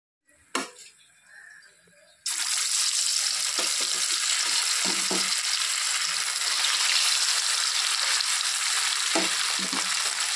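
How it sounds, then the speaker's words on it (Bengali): Pieces of catla fish fry in hot oil, a loud, steady sizzle that starts suddenly after a quiet lead-in with a clink, with occasional utensil taps and stirring noises over it. "মাছগুলো ভাজা হয়ে গেছে, এখন উঠিয়ে নিব।"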